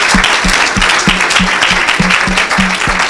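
A congregation at an evangelistic healing meeting claps in a loud, steady rhythm, many hands striking together close by in an even beat throughout.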